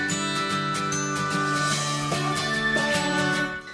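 A house burglar alarm beeps continuously indoors, a steady run of regular electronic pulses over a sustained tone with no talk.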